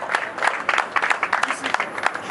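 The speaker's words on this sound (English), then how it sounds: "Just keep appreciating him with a round of applause." An audience applauds a senator as he returns to his seat at a Founders Day gathering, a dense, steady patter of many hands clapping close by, with voices mixed in.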